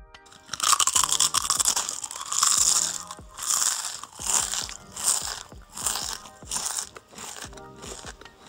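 Homemade crispy potato chips crunched repeatedly during tasting, loud close bites and chewing in a steady rhythm of about eight crackly bursts, with no talking.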